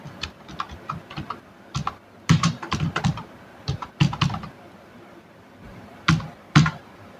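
Event location being typed into Photoshop on a computer keyboard, close and clear: irregular clusters of quick keystrokes separated by short pauses, with no speech.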